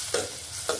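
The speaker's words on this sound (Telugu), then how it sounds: "తురుమును బాగా ఫ్రై చేసుకోవాలి." Grated bottle gourd frying in a pan, a quiet steady sizzle with two brief spatula scrapes.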